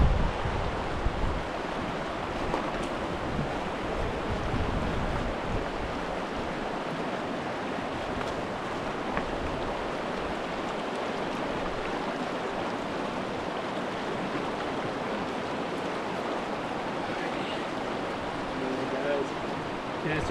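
Fast-moving mountain stream water on a hike toward Utah's Kings Peak, a dense, constant rushing hiss close to the microphone that barely varies over the whole stretch.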